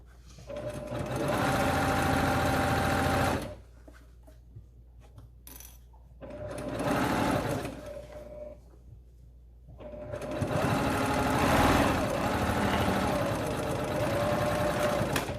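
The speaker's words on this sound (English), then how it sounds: "Sew down the other side. Back stitch." A sewing machine stitches down the side of a fabric children's face mask, running in three loud steady bursts with brief quiet pauses between them.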